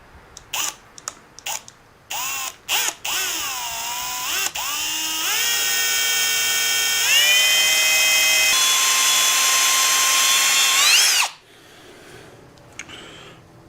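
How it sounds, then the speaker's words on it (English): A power drill whirs in short bursts, then runs steadily for several seconds, its pitch stepping up as it bites through a round metal motorcycle handlebar before stopping. "That's where we're going to drill our hole."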